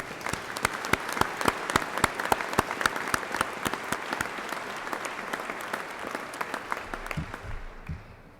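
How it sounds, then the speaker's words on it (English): Applause from the audience at an Indiana State Police academy class graduation ceremony, with many distinct sharp claps ringing out in a hall before tapering off, and a voice beginning at the end. "So a nice round of applause for that as well."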